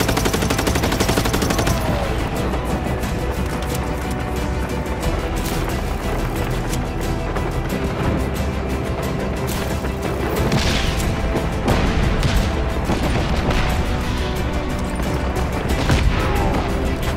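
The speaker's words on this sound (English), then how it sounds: "Who's shooting at me?" Heavy gunfire aimed at the player in the video game Just Cause 3: dense, rapid machine-gun bursts and shots that pour out loud and nearly nonstop, with occasional heavier booms mixed in.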